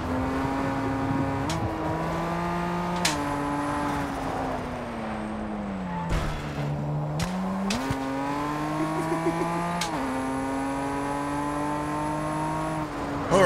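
A car engine in the racing game Test Drive Unlimited Solar Crown drones loudly and steadily, its pitch dipping and climbing again at several automatic gear shifts over about thirteen seconds. No one speaks.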